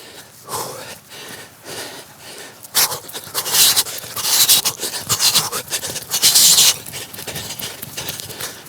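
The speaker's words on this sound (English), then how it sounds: "Apologies for the deep breathing, but if I wasn't breathing, I'd pass out." Heavy, ragged breathing from a footballer after ladder dribbling drills, close to a body-worn mic, with rapid panting gasps growing louder midway along with rustling and scuffing.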